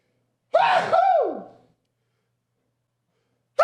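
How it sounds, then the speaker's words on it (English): A single loud sneeze with a sharp intake of breath before it, followed by silence and the start of another breath at the end. "I want everybody hearing me sneeze."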